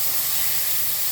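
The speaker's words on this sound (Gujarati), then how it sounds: "5 ચમચી જેટલી મરચું નાખવાનું અને આપણે વઘાર કરી દેવાનું" Asafoetida and chili powder hit hot oil in a pot for tomato soup, giving a steady, loud, bright sizzling hiss that fills the moment without talk.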